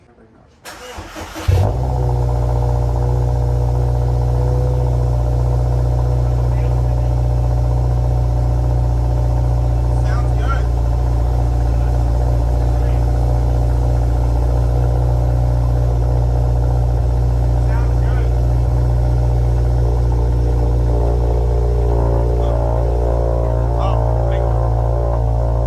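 Subaru WRX STI with a freshly swapped transmission cranks and fires, then settles into a loud, steady, throbbing idle that runs on for over twenty seconds, heard up close.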